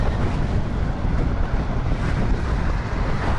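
Strong wind buffets a vehicle driving a road toward Tyumen in cold weather, a dense steady roar rushing against the body and microphone for the whole stretch, with no talk over it.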